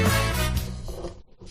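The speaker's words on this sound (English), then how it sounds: "that's the sound of a sale on Shopify" A bright tonal chime sounds the moment a Shopify store makes a sale, ringing with sustained harmonics that decay and fade over about a second, with no speech.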